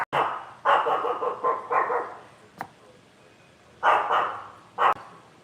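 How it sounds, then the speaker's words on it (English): A dog barks in several bursts, a quick run of sharp barks followed by a pause and two more loud barks, fairly close. "Everything she hears, she starts barking."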